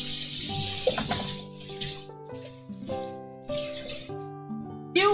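Intermittent gushes of tap water splash while dishes are washed at a sink, short bursts that start and stop against steady background music.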